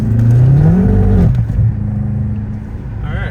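A BMW F10 M5 with methanol injection makes a second gear pull, its loud engine note climbing steadily in pitch for over a second before dropping sharply and settling to a lower drone.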